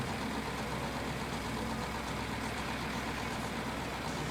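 Tractor or combine harvester engine in the Farming Simulator 22 video game, a steady droning idle rumble with no speech.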